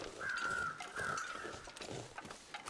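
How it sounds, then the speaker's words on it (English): Two drawn-out caws from birds in the wilderness game The Long Dark ring out close together over a soft background hiss, followed by fainter scattered noises. "the birds are straight ahead in this canyon"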